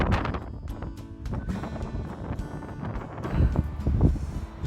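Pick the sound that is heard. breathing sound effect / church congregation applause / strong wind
strong wind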